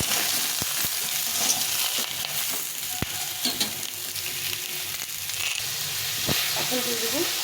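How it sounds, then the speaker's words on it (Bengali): Ridge gourd frying with turmeric powder in a pan gives a steady close sizzle with occasional clinks and stirring scrapes, and no talk over it. "হলুদ গুঁড়ো দিয়ে ঝিঙেটাকে ভালো করে ভেজে নেব।"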